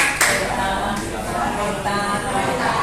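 A seated audience at a dharma talk claps hands together, a dense steady patter of applause filling the room for a few seconds without pause.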